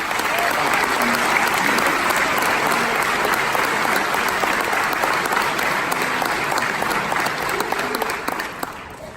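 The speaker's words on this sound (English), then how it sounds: "Can we give them a rousing applause for that?" Sustained audience applause fills a high school baccalaureate ceremony for the class of 2019, a dense, steady clapping wash from a large crowd that holds for about nine seconds before easing slightly at the end.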